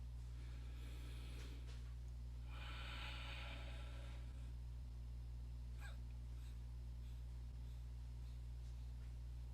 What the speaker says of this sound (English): Here you're not inhaling actually, you're just exhaling, exhaling